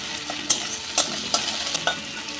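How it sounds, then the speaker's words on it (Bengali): Onions sizzle and crackle in a hot pan, with four or five sharp scrapes of a spoon stirring them at a fairly regular pace. "পেঁয়াজটা খুব সুন্দর লাল করে ভাজা হয়ে গেছে"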